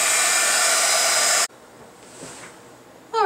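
A loud hair dryer blows close by as it dries a flower craft canvas, then cuts off abruptly, leaving quiet room noise before a brief burst of sound returns at the end.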